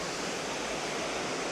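A waterfall on a hiking trail pours in a steady, dense rush of falling water, constant and fairly close, with no voices.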